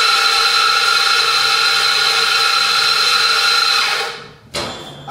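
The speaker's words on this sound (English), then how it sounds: "Grind my coffee fresh." An electric coffee grinder grinding fresh beans for espresso, a loud steady high whirring drone held for about four seconds before spinning down and cutting off, followed by a brief clunk.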